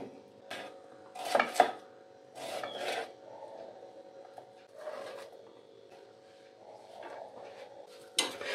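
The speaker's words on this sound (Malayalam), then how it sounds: "ഇതുപോലെ പെട്ടെന്ന് അരിഞ്ഞെടുക്കാം." Quick knife chopping, likely of okra on a board, heard as several short bursts of rapid taps and scraping with quiet gaps in between.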